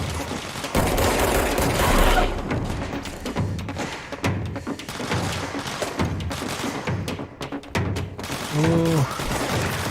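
Rapid video game gunfire crackles in dense bursts among thuds and booms, loud and close, broken by brief lulls, while a player talks over it.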